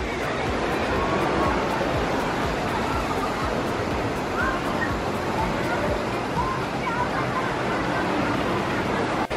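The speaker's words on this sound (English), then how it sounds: "I don't know how well you can hear me because of the waves" Ocean surf on a Hawaii beach at Oahu rolls in as a loud, constant roar of breaking waves, close by, with a voice talking faintly under the wash.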